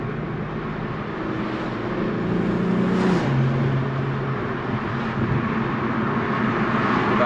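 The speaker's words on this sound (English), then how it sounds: "The turbos, my intakes just started spooling louder" A boosted Infiniti Q50 Red Sport engine hums steadily with a rising whine of turbo spooling, climbing in pitch briefly before settling, heard from inside the car.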